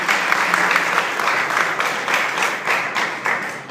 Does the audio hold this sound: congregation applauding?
yes